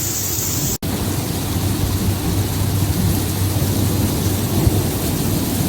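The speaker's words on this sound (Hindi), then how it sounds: "तकरीबन कोई 1 घंटा तेज़ हवा के साथ बारिश होती रही थी, साथ में खूब सारी थंडरिंग और लाइटिंग भी" Heavy rain pours steadily with strong wind during a thunderstorm in Abu Dhabi, UAE, a dense, even roar throughout with one brief dropout near the start and no distinct thunder crack.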